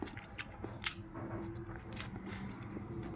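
Close, faint crunching bites and chewing of half-cooked, still-crisp bitter gourd (ampalaya), with soft irregular crunches and squishy mouth sounds over a quiet background.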